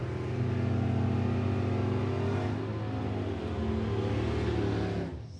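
A funny car drag racing engine runs during a test session, a loud, steady, deep mechanical roar that holds for several seconds and then drops away at the end.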